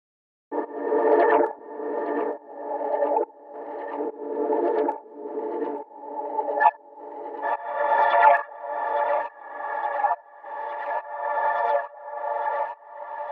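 Texture one-shot sample from a producer kit for a dark trap beat in FL Studio, processed with distortion and delay: a buzzy, piercing tone pulsing in repeated short bursts for over ten seconds, with no voices.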